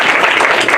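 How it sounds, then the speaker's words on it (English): Dense burst of audience applause, loud and continuous with many overlapping claps, heard briefly and alone. "Give this lady a round of applause."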